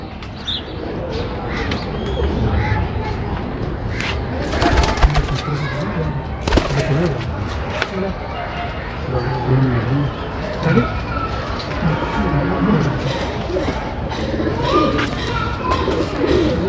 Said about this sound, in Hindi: ये उस्ताद जी उनके सलारे टैडी कबूतर